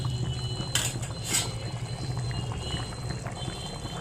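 Potato curry (aloo chochchori) boiling in a pan, a steady low bubbling simmer close by, with two brief brighter bursts near the start.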